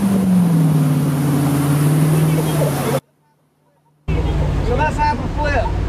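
Motorboat engine towing a wakeboarder on open water, a loud steady drone with wind and water rush whose pitch falls as the throttle rolls off, then a brief cut to near silence before engine and water noise return under talking.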